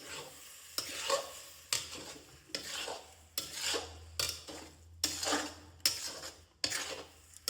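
A spoon stirs tomato paste into a sizzling green turmeric curry in a pan, with eight or nine rhythmic scraping strokes about a second apart and a soft frying hiss between them, close and alone.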